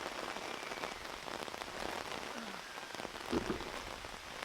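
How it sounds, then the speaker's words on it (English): Heavy rain pours down outdoors in a dense, steady patter on surfaces, with a brief louder thump near the end and no talking. "Oh, this ain't just a little rain, guys."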